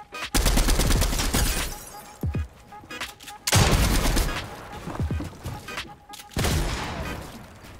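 An auto shotgun firing in a video game arena match: rapid bursts of loud, close blasts in three clusters separated by brief lulls.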